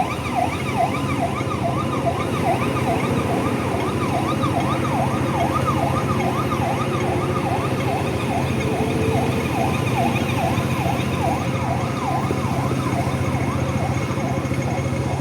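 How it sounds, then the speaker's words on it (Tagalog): Wailing ambulance sirens rise and fall continuously over loud, steady street traffic near a market, heard from a sixth-floor building, with faint background voices now and then. "Ay, nagpaparid yung mga ambulansya, guys."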